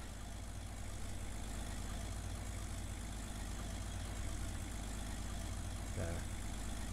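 A half-track's engine idles loudly and steadily in a video game, a constant low rumble with a brief knock near the end.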